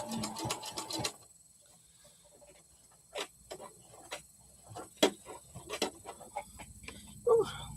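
A sewing machine stitches a fabric chameleon in a quick run of rapid ticking at first, then scattered short bursts and single clicks. A voice speaks faintly at moments.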